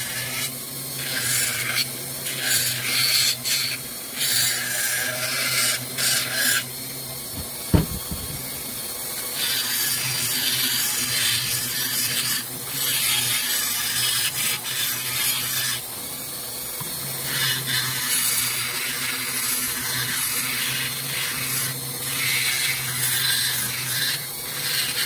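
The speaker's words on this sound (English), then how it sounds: "Then we will go in and start deburring everything." Deburring and chamfering the ports of a Yamaha 701 big-bore cylinder with a rotary tool, a steady grinding and rattling whir with bursts of higher rasping texture, close and continuous throughout.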